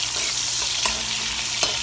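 Potato (aloo) and onion frying in plenty of oil in a pot, a steady bright sizzle with a few soft scrapes of a stirring spoon, close and without talk.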